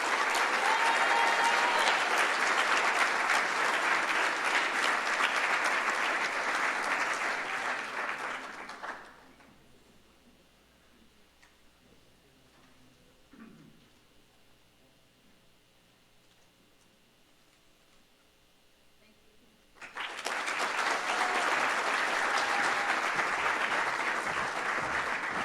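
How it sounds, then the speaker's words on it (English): An audience at a youth recognition awards ceremony in Thousand Oaks, California, applauds students loudly and steadily. The clapping fades to a quiet room for about ten seconds, then a second full round of applause starts. "Let's give these amazing students a round of applause for their service to our community."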